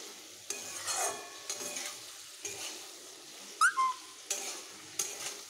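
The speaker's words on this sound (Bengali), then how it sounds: "আমি সব মশলাগুলোকে এইভাবে ভালোভাবে মিশিয়ে নিচ্ছি।" A spatula stirs Maggi masala and spices into small river fish and vegetables frying in a pan, giving soft scraping strokes at a steady pace over a faint sizzle, with one brief whistle-like tone partway through.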